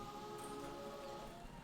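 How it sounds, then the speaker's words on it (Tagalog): Continuous rain falls in Uyugan, a steady, faint hiss of drops that runs unbroken throughout with no voices. "Tuloy-tuloy ang ulan."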